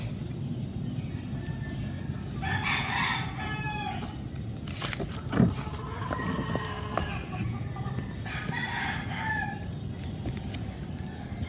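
Chickens on a farm, with a rooster crowing several times at moderate distance, long drawn calls rising over steady background noise while hens cluck and other birds call now and then.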